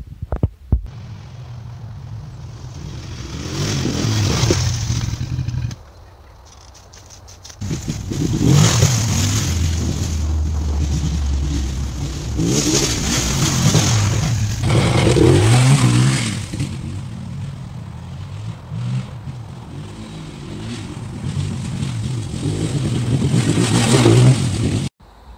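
An ATV quad engine revs up and down while riding around a property, rising and falling in repeated loud surges with a brief dip to idle, close to the listener; no talking.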